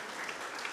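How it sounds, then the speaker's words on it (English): Applause from an audience at the VFF 2025 show, a dense steady patter of clapping throughout that stays at an even level for the short stretch. "let's have a very big round of applause for him"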